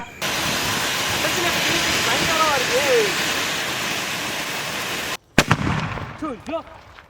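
Diwali firecrackers set off outdoors in a village: a long hissing, fizzing spray of sparks, then a sharp bang followed by whistling, crackling bursts, with people's voices reacting nearby.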